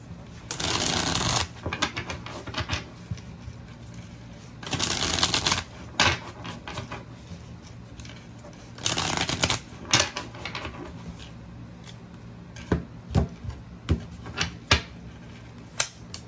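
Three bursts of cards being shuffled, each a brisk riffling rush about a second long, followed by scattered sharp clicks and taps of cards being set down.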